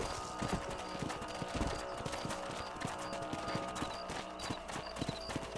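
Horses trotting in Red Dead Redemption, a steady run of hoof clip-clops on a ranch property, continuous and fairly close over a busy game soundscape with no speech.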